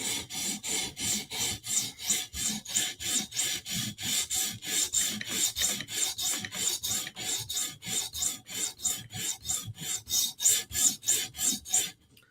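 A Chris Reeve Sebenza Tanto knife is drawn across a sharpening stone in steady, rhythmic rasping strokes, about two per second, close and clear with no talking.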